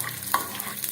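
Mustard seeds splutter in hot coconut oil and ghee during tempering, giving a brief close crackling sizzle with a few sharp pops.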